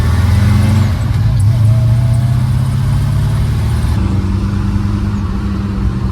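A ratty, smoky 1964 Plymouth Fury rumbles through corners, its engine drone loud and close with a low steady hum and a slight shift in tone partway through, heard from inside the car.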